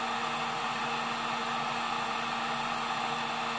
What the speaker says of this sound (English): this heat gun heats it up fairly fast